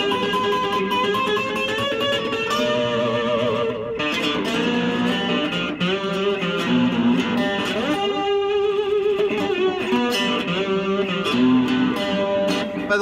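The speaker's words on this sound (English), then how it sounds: "Let's crank up that distortion just a little bit because why not?" A shovel-handle cigar box guitar played with a slide through distortion: twangy, gritty notes and chords, strummed and slid in a loose bluesy rhythm, fairly loud and close.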